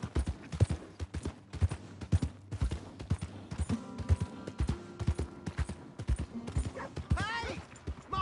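Horse hooves in Red Dead Redemption 2, a close, rhythmic clip-clop of a horse moving, with a whinny and some background game sounds mixed in.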